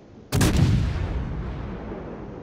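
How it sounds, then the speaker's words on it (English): Heavy naval guns in a warship video game fire in one sudden loud blast, followed by a long rumbling decay with no talk over it. "Fire the guns."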